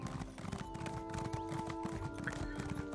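Horse hooves clip-clop steadily in Elder Scrolls Online on a speed-trained mount, a continuous rhythmic trot over a droning game background.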